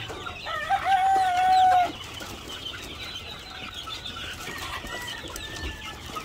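Farm chicks cluck and cheep steadily during a feed change to breeder pellets, with a louder sustained call early on, then a continuous mix of chirps and scattered clucks at moderate distance.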